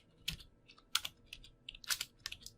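Code being typed on a computer keyboard, a few quiet, close key clicks in short irregular clusters.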